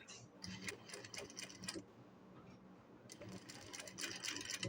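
A sewing machine runs a lock stitch during beginner tailoring practice, giving quick, fairly faint mechanical ticking bursts that pause briefly midway and then resume.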